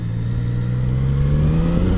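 A Yamaha Tracer 900 motorcycle engine pulls hard, a loud continuous drone rising steadily in pitch as it revs up past high rpm, with no voices over it.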